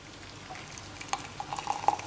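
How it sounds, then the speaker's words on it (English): Boiling water pours into a metal tea strainer, a low steady trickle that builds to light splashing and dripping near the end, with no one talking. "And I'm gonna fill it up with boiling water."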